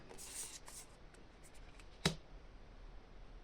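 Tarot cards shuffled by hand during a card reading, a soft papery riffle near the start, then quiet with a single sharp tap or snap of the deck partway through.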